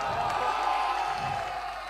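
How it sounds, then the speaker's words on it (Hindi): A mushaira audience claps and cheers in a dense, steady wash of applause that holds at full level for about two seconds, with no clear talk over it. "एक बार बिरादरम फैजी रहमान साहब और उनकी पूरी टीम के लिए पुरजोर तालियां बजा दें।"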